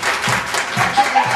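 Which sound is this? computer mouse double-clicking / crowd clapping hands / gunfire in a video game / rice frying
crowd clapping hands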